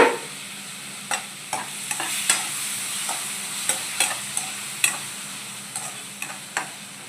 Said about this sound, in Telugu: ఇలా మనం చిన్నగా చాప్ చేసుకొని టమాటోస్ అనేది దీంట్లో వేసేసుకొని మంచిగా మిక్స్ చేసుకోవాలన్నమాట